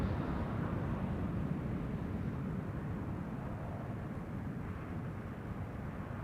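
A passenger airliner on final approach to land on the Kaagbaan runway at Amsterdam Schiphol Airport gives a steady, broad jet roar that holds at an even level throughout, with no voices.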